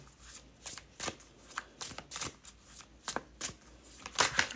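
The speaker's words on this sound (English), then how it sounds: "Cynthia, may I have a card, please?" Oracle cards shuffled by hand: a quick run of crisp riffling flutters and slaps, about a dozen bursts at an uneven, brisk pace, close and fairly soft, ending in a brighter flurry.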